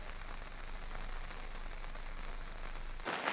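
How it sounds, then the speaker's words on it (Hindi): Continuous monsoon rain pours down in Nainital, Uttarakhand, a dense, steady hiss of drops on surfaces that holds unchanged for about three seconds before shifting briefly at the end, with no voices. "पिछले 5 दिनों से नैनीताल में लगातार बारिश हो रही है"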